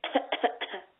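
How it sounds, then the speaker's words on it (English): A single close cough from a man in a conversation, made of three quick, rough bursts within about a second, loud and with no other sound around it. "I'm gonna cough to give you the hint."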